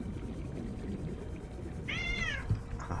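A house cat gives one clear, rising-and-falling meow, close by and fairly loud, over a steady low background hum.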